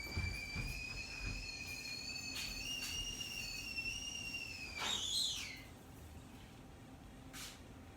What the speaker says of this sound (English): That's my tea kettle, hold on a second.